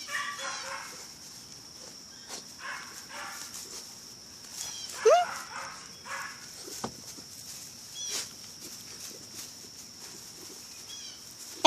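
A puppy makes small whimpers and yips close by in sparse, scattered bursts, with brief human voices mixed in.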